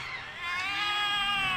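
Several cats from the video game The Cat Lady meow in alarm, high wavering cries that rise and swell steadily over a low ambient bed, loud and close with no talk.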